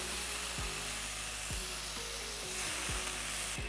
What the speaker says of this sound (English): I'm just going in with some minced garlic.